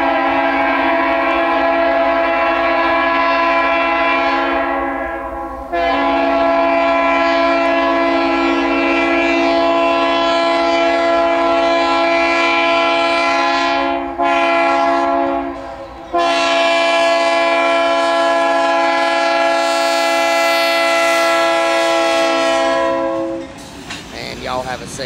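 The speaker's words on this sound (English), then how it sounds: "coming north to go west on the Altavista District is going to be NS" Norfolk Southern intermodal train NS 217, led by an ex-Conrail Dash 8 locomotive, passes close by and sounds a loud, sustained multi-tone horn in several long blasts, with rail noise underneath.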